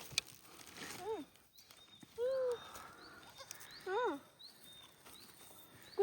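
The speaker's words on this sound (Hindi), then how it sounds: "ये बकरी के बच्चे हैं, कितने खूबसूरत लग रहे हैं।" Baby goats with long ears bleat near a hillside restaurant close to Palampur, giving three distinct wavering cries at moderate distance, with someone speaking quietly between them.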